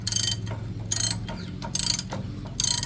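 Ratchet wrench tightening a nut on a train carriage, loud bursts of rapid metallic clicking in four separate strokes with short pauses between them, close by and with no talk.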